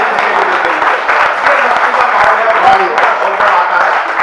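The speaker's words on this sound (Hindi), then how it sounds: "एक बार हाथ खड़े करके तालियां बजाए" An audience at a poetry recital claps loudly and continuously in a dense, even wash of applause, with a faint voice or two murmuring beneath.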